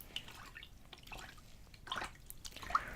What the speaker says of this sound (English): I just got water splashed in my face.